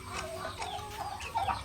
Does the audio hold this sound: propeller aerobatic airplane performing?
no